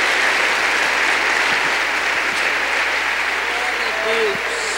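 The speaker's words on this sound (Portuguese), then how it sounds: "Aplauda Jesus" A church congregation claps steadily through a worship service, dense applause filling the room with a few voices calling out faintly beneath it.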